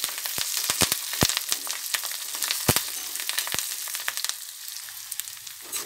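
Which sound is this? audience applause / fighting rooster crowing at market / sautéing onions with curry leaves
sautéing onions with curry leaves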